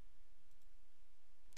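A mouse click in circuit-simulation software while saving a transmission line model: one short, sharp click near the end of an otherwise quiet stretch.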